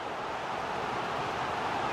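Stadium crowd in an FC 24 match between Nottingham Forest and Liverpool at the City Ground: a steady, broad roar of spectators, constant and fairly soft, with no clear chants or peaks.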